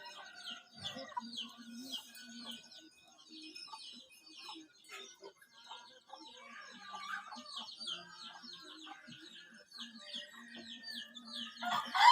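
Chickens cluck and chirp repeatedly among other bird calls at a Hmong new-rice harvest celebration in Laos, a steady busy patter at moderate distance with no talk over it.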